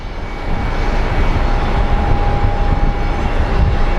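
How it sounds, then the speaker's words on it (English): A CRJ regional jet at Phoenix Sky Harbor airport gives off a steady, loud broadband engine roar with a thin high whine, swelling slightly after the first half-second and holding without talk. "Looks like we got a little baby CRJ."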